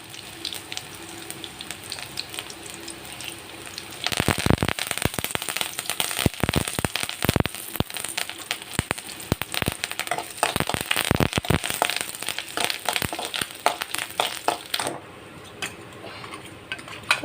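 Onion, dried red chilli and curry leaves sputter and crackle sharply in hot oil while a Kerala ginger theeyal is being made, with a burst of loud popping that runs steadily for about ten seconds before cutting off abruptly.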